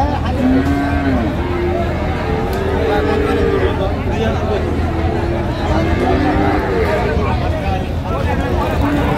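Cattle moo repeatedly at a busy livestock market selling Friesian and crossbred bulls, several long drawn lowing calls overlapping with a dense crowd babble and nearby voices throughout.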